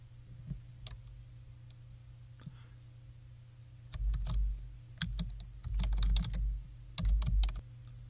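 Typing on a computer keyboard, scattered key taps at first, then a denser run of close clicks in quick bursts with a low steady hum behind.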